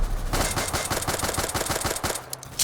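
A minigun in a Roblox zombie survival game fires a steady, rapid stream of rounds, loud and close, as a continuous rattling burst running for most of the moment before tapering off.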